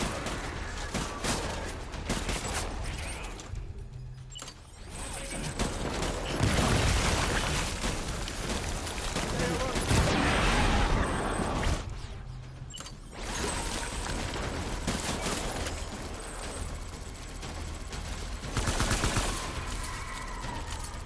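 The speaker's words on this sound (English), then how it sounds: "I don't understand who's shooting me from where." Dense, continuous gunfire and explosions in the video game Death Stranding, loud and sustained with brief lulls, rapid bursts layered over booming blasts.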